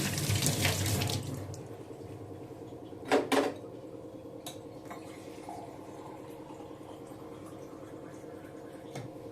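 Tap water runs and splashes in a sink over freshly cleaned silver idols, a loud gush at the start settling into a steady faint trickle, with a couple of brief clinks of metal partway through.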